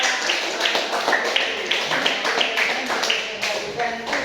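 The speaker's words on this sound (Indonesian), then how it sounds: "Pertama berikan aplaus kepada kelompok kedua." A classroom group claps for another group of students, a short burst of scattered, uneven applause close by, with a voice talking over it.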